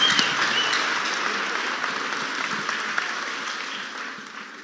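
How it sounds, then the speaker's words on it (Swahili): A church congregation applauds a cash donation of 3 million, a dense, steady clapping that fills the room and slowly fades, with no voices over it. "Hiyo ni makofi yetu kweli ya 3 million"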